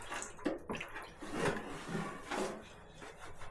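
Water draining from a removed household radiator, irregular gurgles, glugs and splashes with a few knocks as the metal unit is tipped, fairly quiet and close.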